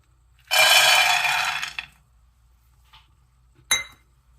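Peanuts tossed into a hot pan over a medium gas flame, a loud sizzling rattle for about a second and a half, then quiet apart from a faint clink and one sharp clatter near the end.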